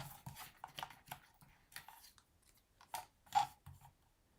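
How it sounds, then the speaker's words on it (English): A teeny tiny paper trimmer cuts a greeting out of card stock, making a series of soft close clicks and scraping slides, quiet and unhurried, with no talk. "So I'm going to take my teeny tiny trimmer. I'm going to cut the greeting out."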